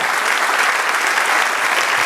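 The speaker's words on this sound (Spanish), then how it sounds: "Denle un aplauso al Señor y alábele." A church congregation applauding in praise during a worship service, a dense, loud, sustained wash of clapping filling the room without letup.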